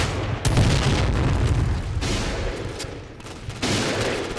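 Rapid AK-12 rifle fire from the Point Blank shooter game, dense bursts of shots rattling loudly and continuously with a few sharper cracks standing out.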